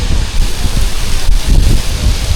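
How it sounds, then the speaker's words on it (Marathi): Monsoon water pours down a hillside beside rock-cut caves, a steady, dense rushing roar like heavy rain and wind, constant and close throughout, with no voices. "कसं पाणी पडतंय बघा."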